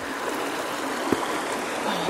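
A river in the bush flowing steadily, a broad continuous wash of running water with no gaps, close by and fairly loud throughout.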